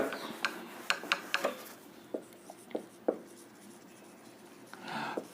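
A teacher writes on a board during a chemistry lesson, with quick scratchy strokes in a short burst, then a few sparser taps and scrapes, close and without talk.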